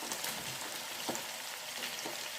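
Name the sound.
frying chicken with cubed onions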